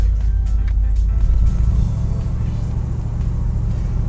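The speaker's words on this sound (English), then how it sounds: "So the car I'm driving today is the fourth generation of the Chevy Impala" A fourth-generation Chevy Impala classic fastback drives along, its engine giving a steady, loud low rumble from inside the cabin, with no talk.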